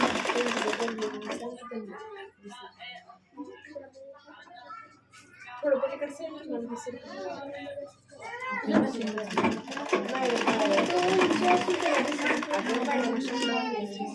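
A sewing machine stitches a plain blouse, its motor running in steady mechanical bursts with brief pauses, while people talk over it at close range.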